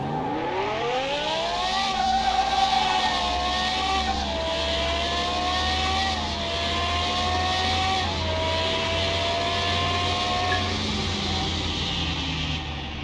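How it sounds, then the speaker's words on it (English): A Turbo V8 Special races a Supra in the Car Mechanic Simulator game, its engine droning loud and continuous as the pitch climbs, drops at each gear shift and climbs again through several gears. "So it looks like this Turbo V8 Special is trying to bring it."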